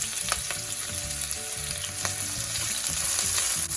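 Onions frying in oil with cumin seeds, cinnamon, cloves and sweet chilies, a loud close sizzle with clattering strokes of a spoon stirring through the pan.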